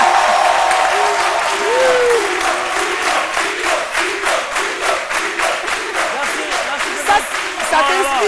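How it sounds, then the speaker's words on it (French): Studio audience applause on a French-language TV variety show, loud and sustained clapping throughout, with a voice talking and calling out over it. "que je vous demande d'applaudir"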